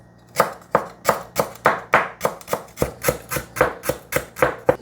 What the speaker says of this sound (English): So now we're gonna cut our lemongrass really small.